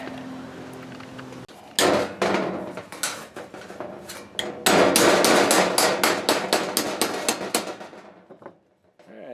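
Wood mallet pounding cut sheet metal pieces, a long run of loud, close, ringing metallic blows in quick rhythmic bursts, ending in quiet.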